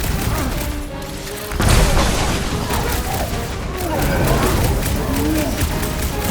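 Explosions crackle and boom in dense bursts during a fight in the video game Guardians of the Galaxy, loud and continuous, mixed with action noise.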